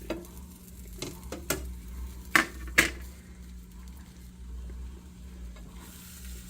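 Scrambled eggs cooking in a small pan give a low steady sizzle, broken by a few sharp scraping and tapping strokes of a utensil against the pan, with no one talking.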